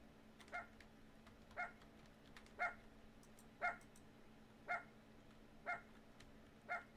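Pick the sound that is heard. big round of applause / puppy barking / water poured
puppy barking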